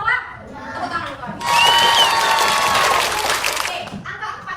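Schoolchildren in a classroom break into a loud, dense round of hand clapping that lasts about two seconds, with voices around it before and after.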